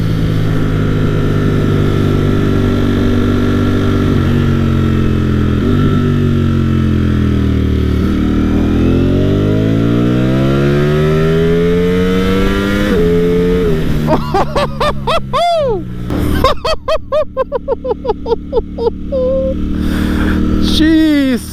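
A Ducati Streetfighter V4S sport motorcycle engine revs hard and climbs repeatedly in pitch, close and loud, with sharp high-revving bursts near the end.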